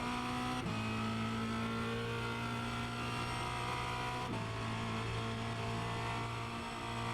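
Formula Renault 2.0 open-wheel race car engine in the iRacing simulator at Road America, a steady loud drone that briefly dips and steps in pitch twice as gears change through a corner, with no talk.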